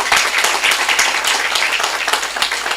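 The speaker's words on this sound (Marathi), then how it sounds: "आयोजकांसाठी जोरा जोरात टाळ्या वाजल्या" An audience at a public talk claps loudly for the organisers, a dense, continuous patter of many hands heard close up with no talking over it.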